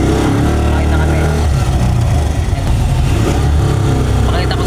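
A motorized tricycle's engine runs continuously and loudly from inside the ride, a dense rumbling drone with people talking over it.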